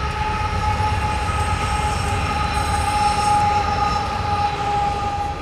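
A train rolls past close by on a city route, a loud steady rumble topped by high metallic wheel squeal that holds throughout, with no talking.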